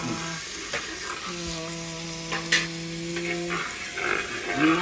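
Onions frying in a pan for Mughlai chicken gravy are stirred, with a bed of sizzling and scraping strokes close by, plus a steady tonal hum underneath.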